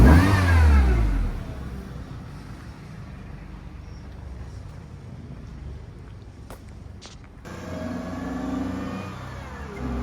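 Supercharged Mazda Miata engine revs hard at the start with a rising, sweeping whine, then drops to a steady, lower idle drone before picking up slightly again near the end, heard close up.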